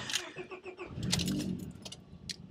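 A car with a transmission fault that sticks in almost every gear is started up, its engine catching with a rough low rumble and a rise in noise, with light jingling near the start.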